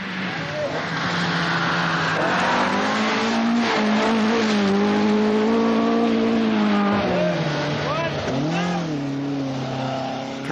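A Ford Escort RS 1800 rally car on forest access roads, its engine wailing and shifting pitch as it accelerates and revs hard through changes, loud and sustained for about ten seconds.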